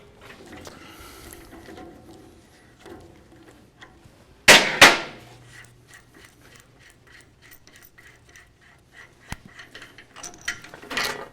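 A punch-flare die is loosened after forming a bead in metal, giving a sharp metallic clank followed by close ratcheting and mechanical clicks in a quick irregular series, with no talking.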